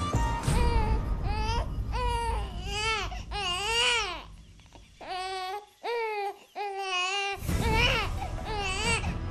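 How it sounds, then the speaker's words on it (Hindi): An infant cries in loud, wavering wails that come in rhythmic bursts with short gasping pauses, close and insistent throughout, with no talking over it. "ये बच्चे के रोने की आवाज कहां से आ रही है?"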